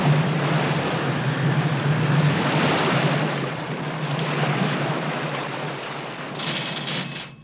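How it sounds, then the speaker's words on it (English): Outboard motors and reversed propellers of the ship Calypso churn the water, a broad, steady roar of engine and rushing water with wind mixed in, loud and continuous before easing slightly near the end. "The combined effort of the thrusting outboards above, the pull on the anchor astern, and the thrust from Calypso's reversed propellers does the job."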